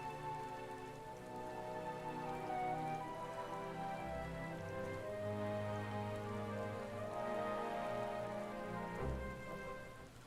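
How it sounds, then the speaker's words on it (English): Rain falls steadily in the video game Final Fantasy XIV, a soft continuous patter of drops over a quiet musical backdrop, faint and unbroken throughout. "I like the rain. It's kind of raining on a parade, but it is pretty."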